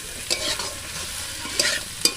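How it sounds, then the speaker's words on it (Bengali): Chicken leg pieces are sautéed with spices in a pan over a clay stove: a steady broadband sizzle and fry with intermittent scraping stirs and clinks, close and continuous, and no one speaking. "এবার একদম ভালো করে লেগ পিসগুলো মশলা দিয়ে কষে নেব।"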